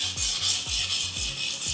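A knife blade is drawn repeatedly across a whetstone, working from heel toward tip. About six rhythmic, close rasping strokes are each ended by a short scrape, with no talking.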